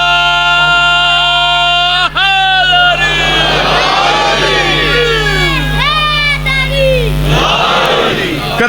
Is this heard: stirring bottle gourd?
no